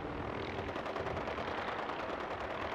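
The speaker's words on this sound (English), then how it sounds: "Or is he just willy-nilly shooting everything?" Rapid video game gunfire from an alien attack in a post-apocalyptic shooter, a steady rattle of automatic shots with a faint droning hum behind it, quiet and distant, with no voices.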